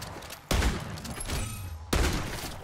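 Hip-fired gunfire in the MW3 Zombies video game comes as two sharp, heavy bursts about a second and a half apart, over a low, busy game background.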